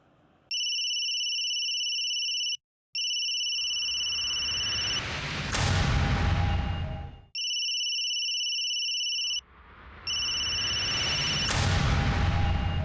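A phone places an outgoing video call, giving a repeated electronic ringing tone in two bursts, each broken by a brief gap and followed by a loud, noisy swell, with no voices present.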